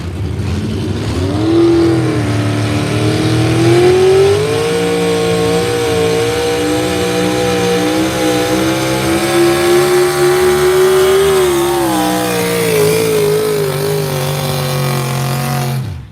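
Pulling truck engine revving hard at a truck pull, a loud, sustained close roar with pitch rising and holding, then dropping off near the end.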